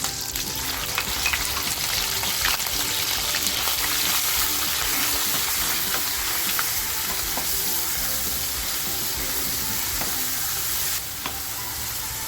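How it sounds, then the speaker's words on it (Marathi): Grated onion fries in plenty of hot oil while cooking down toward golden, giving a steady, loud, dense sizzle that runs unbroken from start to finish with no voices over it. "कांदा आपल्याला ना सोनेरी होईपर्यंत फ्राय करायचा आहे"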